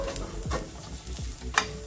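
Shallots and curry leaves fry in hot oil for a Kerala kappa biryani, a steady close sizzle broken by a few scraping stirs of a spoon against the pan, with no voices.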